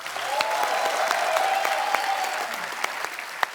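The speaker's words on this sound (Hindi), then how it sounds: "जोरदार तालियां।" Studio audience at a Hindi comedy show breaks into steady, dense applause, a full wash of clapping that holds for several seconds with a faint tone running underneath.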